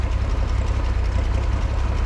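A Farmall 460 tractor engine idles with a steady, dense low rumble, running smoothly at rest despite a carburetor that acts up under load, loud and close with no voices.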